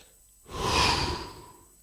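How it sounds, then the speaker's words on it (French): One slow, deep inhalation, airy and close, swelling to a full breath over about a second before easing off into quiet, with no talking. "prendre une grande respiration"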